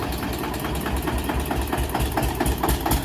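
A tractor fitted with a front attachment idles nearby, its engine a loud, steady low rumble with a regular knocking pulse and vibration throughout.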